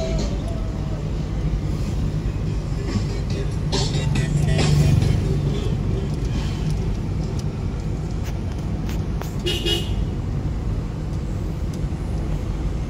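Car traffic in a city at rush hour, heard as a continuous low rumble of engines with passing vehicles swelling and fading nearby, without talk.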